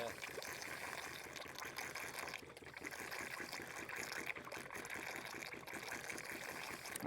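Water gushes and trickles steadily off a black sand shaker table, a continuous wet splashing rush with no pauses that runs from start to finish.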